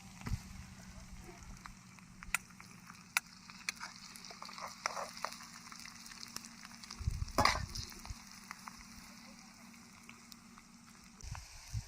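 Onions and chicken frying in a pan for kol posola, a steady low sizzle with scattered crackles and occasional stirring clatter, heard close and fairly quiet.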